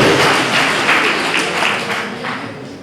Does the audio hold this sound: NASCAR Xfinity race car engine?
no